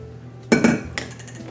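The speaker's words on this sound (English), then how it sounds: "now you're gonna wanna put this all in a pan" Metal pans and utensils clatter while food goes into a pan in a kitchen: a few sharp clanks and clinks in a short burst, close and fairly loud, with no talking.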